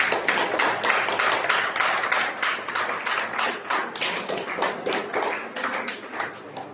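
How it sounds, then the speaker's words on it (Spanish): A congregation at a Sunday church service applauds, a steady, rhythmic run of loud, close hand claps that keeps going throughout. "Denle un aplauso al Señor."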